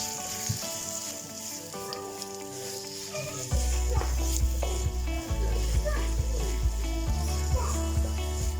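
Curry paste drops into a pan of translucent onions and bursts into a loud, sustained sizzle partway through, with quick clicks of stirring after a quieter stretch of background hum and faint music.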